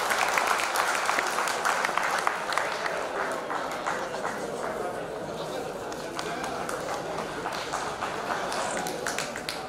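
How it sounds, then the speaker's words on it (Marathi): Strong, sustained applause from a crowd at a felicitation event in Maharashtra, steady clapping throughout with a voice talking over it. "जोरदार टाळ्या प्रेमसिंग ठाकूर साहेबांसाठी."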